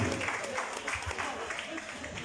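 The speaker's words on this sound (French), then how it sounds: "Et ça mérite des applaudissements" Audience applause rings out for a Calice champagne range, a steady dense patter of many hands clapping at moderate distance, continuing evenly without pause.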